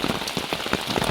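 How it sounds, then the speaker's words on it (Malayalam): Steady rain patters densely on a nearby surface, an even hiss of countless drops with occasional louder splashes, with no voices. "മഴയുണ്ട്."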